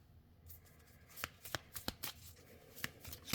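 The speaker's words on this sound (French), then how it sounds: "On va mettre les cartes du Lenormand." Lenormand cards being shuffled by hand, a run of crisp riffling snaps and slaps that grow busier toward the end, close and fairly quiet with no talking.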